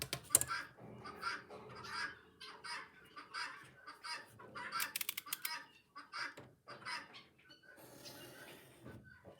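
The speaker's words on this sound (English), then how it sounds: "all the birds are twittering today for us" Birds call outdoors in scattered, repeated bursts: caw-like cries and clucking chirps come and go across several seconds, moderately distant and fairly quiet.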